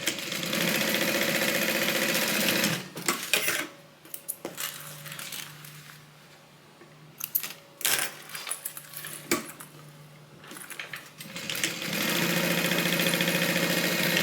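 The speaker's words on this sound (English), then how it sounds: "let me go ahead and just sew these two pieces together" A sewing machine bastes two fabric pieces for a Bible cover, running steadily and loudly for a few seconds, pausing amid clicks and fabric handling, then humming along again at the end.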